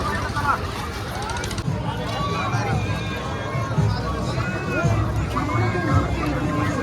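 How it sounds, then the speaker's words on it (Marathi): Huge dense crowd of Bhim followers gathered at Koregaon Bhima on 1 January, a continuous loud hubbub of many voices and footsteps close around, with nearby people talking throughout. "पाच वाजले तरी पण गर्दी अजून होतच आहे"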